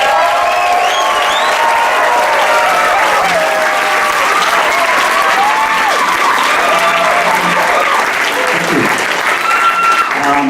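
Festival crowd applauding and cheering to welcome a band onstage, sustained loud clapping with whistles and shouts throughout, voices mixed in.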